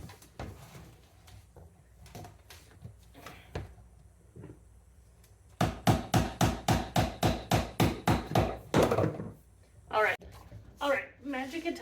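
A mallet taps parts of a VEVOR hydroponic kit together, starting with scattered knocks and then a quick, steady run of about a dozen loud, close hits, with someone talking in between.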